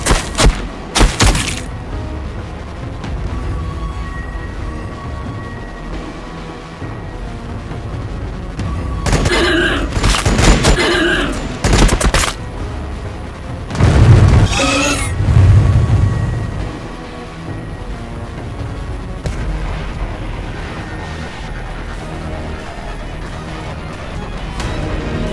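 Gunfire, artillery thuds and explosive bursts from a Warhammer 40,000: Battlesector battle, with sustained rumbling combat broken by loud clustered impacts and blasts around the middle.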